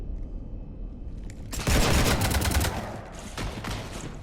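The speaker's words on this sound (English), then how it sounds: "You want to stop shooting up my ship?" A sudden loud fusillade of rapid gunfire in Mass Effect shooting up a ship erupts after a quiet low hum, rattling densely for a couple of seconds and then trailing into scattered shots.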